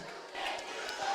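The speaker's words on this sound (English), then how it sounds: "Park Hill crowd lets us know with a "you can't do that" check." Park Hill football crowd chanting at a high school game, a brief, distant, swelling roar of many voices.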